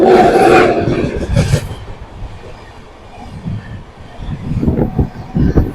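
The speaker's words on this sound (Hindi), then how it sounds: "सामने से आ रही है हरियाणा के भिवानी और प्रयागराज जंक्शन के बीच में चलने वाली ट्रेन नंबर 14118" The Kalindi Express passenger train approaches, loud rail noise and clattering wheels rising and falling, with a dip in the middle before the rumble and clicks build again close by.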